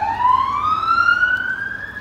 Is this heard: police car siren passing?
yes